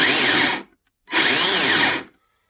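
A loud electric motor of a Kobalt 40V cordless chainsaw whirs up for about half a second with a start-up lag, stops briefly, then runs again for about a second before cutting off.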